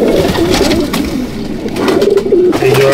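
Close, layered cooing from Madrasi (Chennai) pigeons in a loft at Andul, Howrah, with a steady run of soft, rolling calls over constant background noise and no talk.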